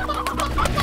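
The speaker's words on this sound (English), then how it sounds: "Oh, I have way too many roosters." Several chickens in the video game Slime Rancher cluck close by in a quick burst of short, overlapping clucks.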